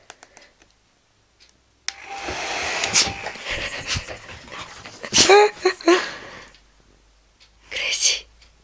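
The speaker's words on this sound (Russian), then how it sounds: "Чтобы вы понимали, это фен." A hair dryer starts abruptly and blows with a loud, close, airy roar for a few seconds. A dog whimpers and yips around it, and quiet voices speak.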